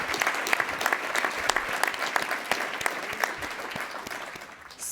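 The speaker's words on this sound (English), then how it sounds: "if I could get a round of applause for all our volunteers" A conference audience at an urban planning symposium in Toronto gives a steady round of applause for volunteers, dense, even clapping that carries through the room at moderate volume and fades slightly toward the end.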